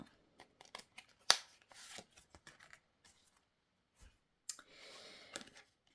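Oracle cards are shuffled and drawn by hand at close range, giving a run of soft, sharp card snaps and flicks separated by short pauses, then a longer burst of shuffling toward the end.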